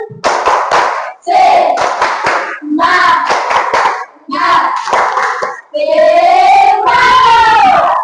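A class stands and claps hands together in a rhythmic chant-clap pattern, bursts of quick claps in groups separated by short pauses, with children's voices calling out alongside, loud and close.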